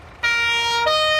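A vehicle siren from a Farming Simulator 22 mod starts abruptly and loud, a bright two-tone electronic wail that steps to a second pitch partway through, with no talking over it.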